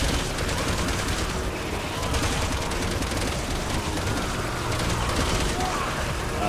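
Sustained volleys of gunfire from Resident Evil 6, a dense, continuous rattle of rapid shots and mechanical clatter at steady loudness throughout, with no pauses and no one talking.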